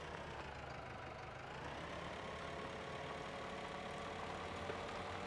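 A small tractor's engine idles steadily in Farming Simulator 17, giving a low, even hum with a faint mechanical rattle that holds constant throughout, quiet and unbroken.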